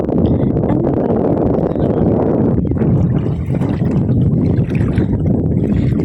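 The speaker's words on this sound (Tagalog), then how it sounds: "Lumakas na yung hangin." Strong wind roars over a small fishing boat out at sea, a loud, steady broadband rush with gusty surges and water sloshing throughout, no voices.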